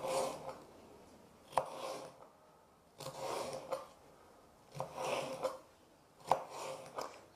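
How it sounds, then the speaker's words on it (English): A knife slices food into strips on a chopping board for a bean chilli, giving four slow, evenly spaced cuts, each a soft scraping stroke ending in a sharp tap, close and quiet. "now carefully I'm going to cut it into strips, keeping my fingers away from the knife"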